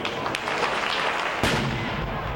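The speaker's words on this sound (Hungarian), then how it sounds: "3 ágyúlövés tisztelgett az új kapitány előtt" A ceremonial cannon fires a salute to a new captain at the 20th Jász World Meeting in Jászapáti. A single sharp, loud boom cuts through continuous outdoor crowd noise.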